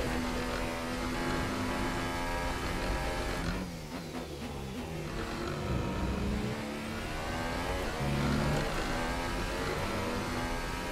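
A Honda Formula 1 power unit in F1 2018 drones and revs with a buzzy, rattling whine, dipping briefly as it shifts or lifts before climbing again, loud and steady throughout.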